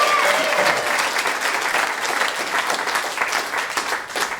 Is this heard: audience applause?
yes